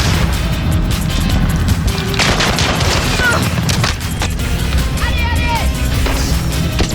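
A grenade thrown and exploding in Call of Duty Modern Warfare multiplayer, loud booms and gunfire crackle in a dense, continuous battle mix with no clear isolated blast.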